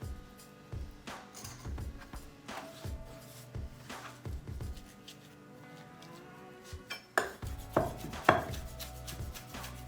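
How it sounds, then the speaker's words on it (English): A chef's knife chops panzanella salad ingredients on a cutting board, a steady run of close, crisp thuds and taps, with a quicker, louder flurry of chops near the end. "then just take our knife. Give it a quick chop"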